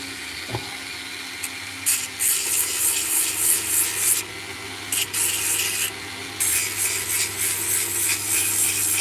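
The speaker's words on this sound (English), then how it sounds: "So mostly I'll be using this 1-inch sander." A 1-inch power sander works over carved wood in bursts, a close, high, gritty rasp that starts and stops several times with short pauses between passes.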